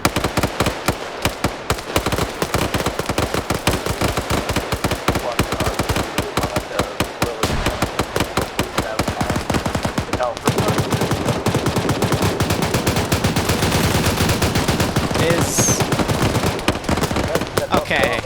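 Relentless rapid automatic gunfire in a video game rattles on for the full stretch, loud and close, with dense bursts of rounds and a voice talking faintly underneath.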